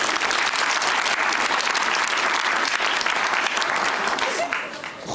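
A studio audience on a Georgian late-night talk show claps in a dense, loud, continuous burst of applause that fades slightly at the end.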